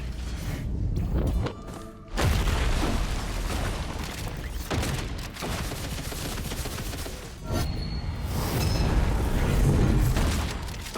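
Heavy airstrike explosions and booming impacts in the video game Risk of Rain 2, a loud continuous barrage of rumbling blasts with brief lulls, dense and close throughout.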